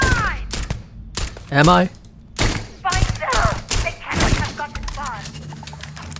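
Enemy weapons fire in a Starfield space combat encounter, a string of loud thumping shots and sharp energy-like zaps spread throughout, mixed with a brief spoken question.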